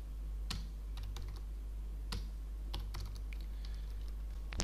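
Typing on a computer keyboard during a Python programming lesson: a handful of sharp, separate key clicks spaced irregularly over a steady low hum, close and clear, with no talk.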